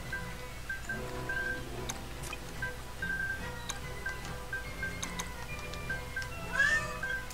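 A cat meows in a Ni No Kuni game over a busy game soundtrack, with short tonal cries rising above the music and one clearer meow near the end.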